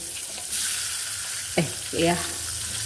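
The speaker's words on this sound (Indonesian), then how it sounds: "kita goreng ikan, maaf ya sampai lupa, setelah ditaburi tepung sedikit tadi di minyak panas" Steady hiss and crackle of flour-dusted fish frying in hot oil, close up, with brief clatters and a short voice partway through.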